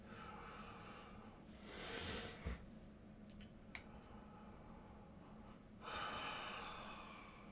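Slow, deep breaths during a yoga session: two soft, airy inhales or exhales spaced several seconds apart, faint and close, with small rustles between and no talk.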